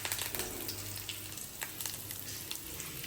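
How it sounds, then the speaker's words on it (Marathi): Curry leaves and mustard seeds sizzle and crackle in hot oil in a kadhai, a dense, close hiss with scattered pops throughout, no voices. "तेल गरम झालं मोहऱ्या टाकून घेतले मोहऱ्या कडून झाल्या कढीपत्ता टाकून घेते"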